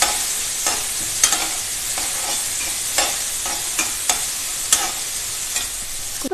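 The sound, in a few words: chopped onions sautéing in a pan for pav bhaji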